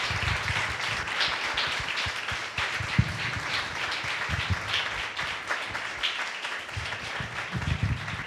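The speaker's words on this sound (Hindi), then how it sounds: "राजमानिकम येत असताना जोरदार टाळ्या वाजून आपण त्यांचं स्वागत करू." A congregation at a church service breaks into loud, sustained applause, many hands clapping densely and steadily throughout, with no voices standing out above it.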